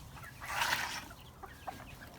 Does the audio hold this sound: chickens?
yes